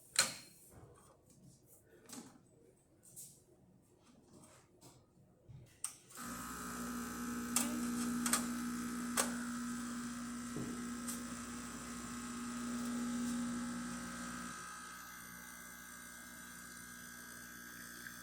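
An Expobar espresso machine, just backflushed, descaled and cleaned, pulls a test shot: after a few quiet seconds of small knocks, a steady pump hum starts and runs continuously with faint hissing, easing slightly near the end.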